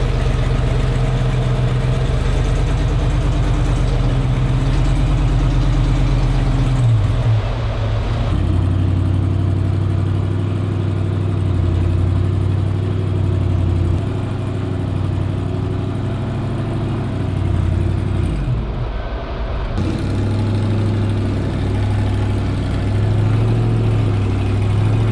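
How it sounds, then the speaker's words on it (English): A rock buggy on an East Coast trail idles and revs, its engine a steady, close, low rumble with a brief dip and rise partway through and no voices. "It's my first time wheeling on the East Coast with a rock buggy"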